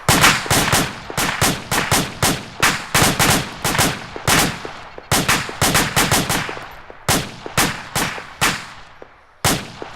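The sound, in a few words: gunfire from infantry weapons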